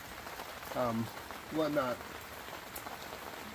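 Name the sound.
rain falling on a Deerfamy gazebo tent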